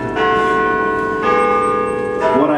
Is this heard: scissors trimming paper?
no